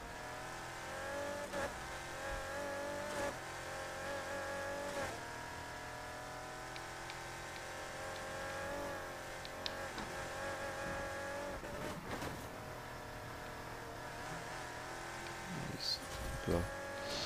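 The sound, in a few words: car engine revving while driving, from Need for Speed Heat video game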